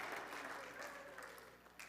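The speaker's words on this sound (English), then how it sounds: "give them a round of applause" Steady clapping from a small crowd at a Friday evening Shabbat service, fairly faint, continuing evenly throughout.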